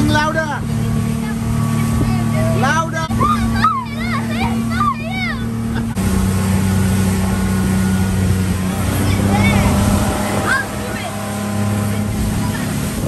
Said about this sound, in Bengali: মাঝ সমুদ্রে স্পিডবোট নিয়ে আমরা যাচ্ছি।